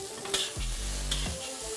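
Fried rice sizzles and fries in a hot pan, with a couple of sharp stirring scrapes and clanks punctuating a steady hiss; no voices.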